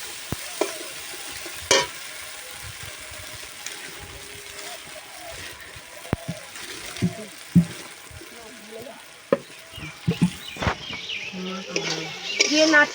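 Chicken offal curry with chili powder stirred in a pan, soft sizzling broken by sharp clinks and scrapes of a spoon against metal, with someone talking intermittently.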